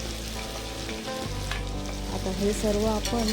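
Cardamom, cloves, peppercorns, garlic and a piece of ginger fry in oil for a restaurant-style paneer kaju masala, with a loud, continuous sizzle and stirring scrapes close by and a brief spoken phrase.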